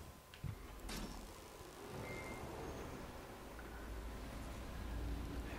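A big door opening in Darksiders 3, a brief clunk followed by a long, low grinding rumble that drags on steadily, heavy and moderately loud.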